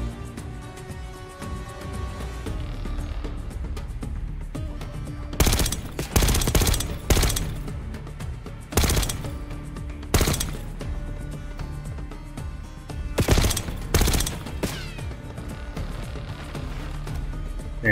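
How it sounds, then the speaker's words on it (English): Bursts of automatic gunfire in the video game Call of Duty: Black Ops 6, several loud clustered volleys over a dense ongoing game soundtrack. "Someone is shooting at me"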